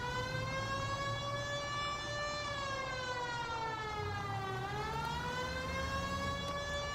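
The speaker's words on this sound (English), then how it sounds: "Okay, I have my siren on." Police car siren wailing in the video game L.A. Noire, a continuous rising and falling tone over a low engine rumble, fairly faint and steady with no talk.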